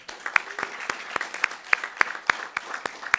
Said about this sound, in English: So let's round of applause for that.